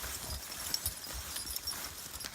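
Horses walk toward a barn, their hooves giving a steady, moderately close clip-clop with a few sharper knocks over a low outdoor rumble.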